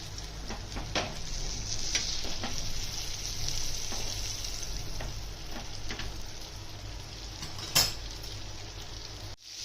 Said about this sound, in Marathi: सगळ्या साईडने असं तेल पसरवून पसरवून असे चांगले गॅस सिमवर ठेवूनच फ्राय करायचे